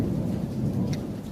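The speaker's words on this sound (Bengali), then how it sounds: "বারিন্দায় দাঁড়িয়ে রয়েছি বৃষ্টি দেখছি" Steady heavy rain pours at night, a dense continuous wash with a low thunder rumble underneath, heard from a veranda with no voices.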